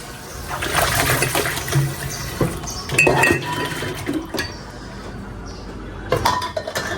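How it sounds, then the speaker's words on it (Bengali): Kadai frying pans are washed with water: metal pans clatter and clink amid splashing and pouring water. The noise is loud and close throughout, with no speech. "কড়াইতে একটু পানি দিয়ে ধুয়ে নিই"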